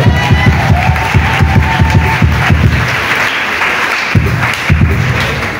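A congregation in a church setting bursts into applause and cheering, a dense, sustained wash of clapping with rhythmic thumps throughout, loud and close.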